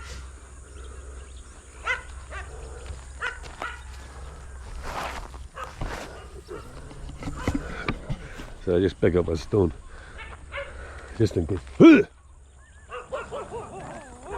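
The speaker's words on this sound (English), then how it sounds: "you hear them growling" Farm dogs bark and growl at an intruder in a series of short, sharp outbursts at middle distance, mixed with footsteps and someone talking over them.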